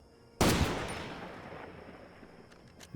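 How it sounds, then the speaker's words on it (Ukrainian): A loud burst of gunfire in the video game Far Cry 2 erupts abruptly, then rings out and decays; a few faint mechanical clicks follow as the weapon jams. "Ви тільки що побачили, як клинить зброя"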